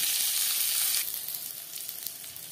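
Sour mango pieces fry in hot oil for dal, giving a steady, moderately loud sizzling hiss that drops back noticeably after the first second and carries on more quietly, with no one speaking.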